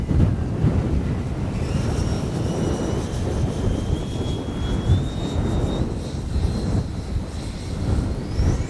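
Steady, loud wind buffets the microphone at an RC jet flying field, a continuous broadband roar with a faint high whine of a Freewing Mirage 2000 model jet drifting overhead.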